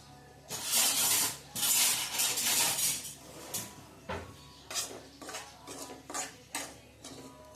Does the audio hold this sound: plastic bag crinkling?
no